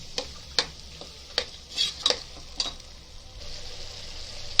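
Lentils fry in a pan with ginger, garlic and tomato for palak dal, a soft sizzle broken by several sharp scraping strokes of a spoon stirring, with no talking.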